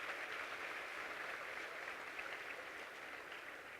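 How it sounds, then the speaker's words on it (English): An audience claps steadily through the whole stretch, a dense even patter of many hands that is moderately distant and free of speech. "Let's give him a big round of applause."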